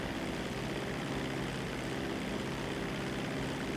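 Seaplane in flight in GTA Online, a continuous loud propeller-engine drone with a steady low rumble and no voices.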